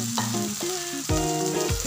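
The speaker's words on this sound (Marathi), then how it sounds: "यात आपण घालणार आहोत आता तयार झालेला आपला बासमती भात" Cooked basmati rice is tipped into a hot fried tempering for lemon rice, setting off a loud, close, continuous sizzle with scraping stirs and clattering pan knocks, with no voices.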